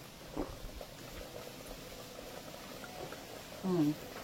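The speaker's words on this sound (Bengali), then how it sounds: "এদিকে ফুটতে থাকো।" Rice and milk simmer gently in a pot for mango payesh, a faint low bubbling under quiet room noise, with a brief louder murmur near the end.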